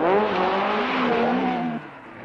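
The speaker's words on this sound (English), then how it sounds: "His engine sounds sick, but not half as sick as Tony himself." A rally car's engine runs rough and strained near the stage finish in a 1976 rally film, a loud close droning note that wavers in pitch before dropping off abruptly near the end.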